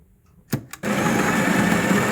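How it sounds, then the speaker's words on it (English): Two short clicks from a Breville Barista Express espresso machine, then its built-in burr grinder starts grinding coffee beans with a steady, loud, close whirring drone that continues to the end. "I grind my first dose, tamp, then grind again."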